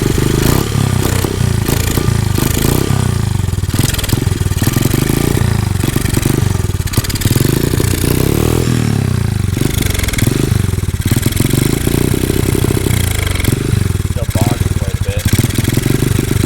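A Honda CRF 50 mini dirt bike engine runs loud and close throughout, a steady rough idle with clattering and occasional revs.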